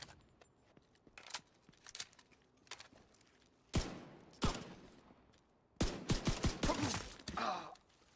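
Gunfire in The Division 2 on PC: scattered single shots, then heavier blasts and a rapid closing volley, loud and nearby with almost no talk.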